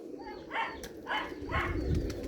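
A female Ferozpuri pigeon coos close by in three soft, evenly spaced calls over a low background hum.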